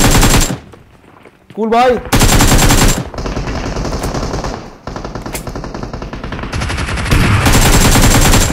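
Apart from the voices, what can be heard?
gunfire in the video game BGMI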